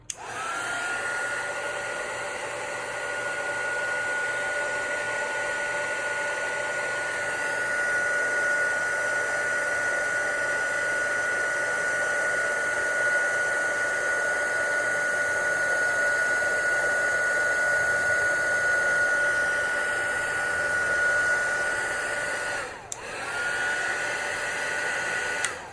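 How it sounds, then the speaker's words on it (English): Embossing heat tool blowing steadily over black embossing powder on a rubber stamp, a loud continuous whining hiss with a high tone that holds for about twenty-five seconds, dipping briefly near the end. "So now we have our powder. And then heat tool. It's about to get loud again."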